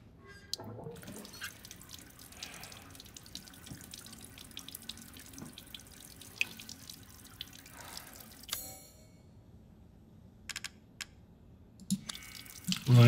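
Water runs from a tap into a sink for rinsing in the video game Resident Evil Village, a quiet steady flow with small drips and clicks, ending in a louder burst.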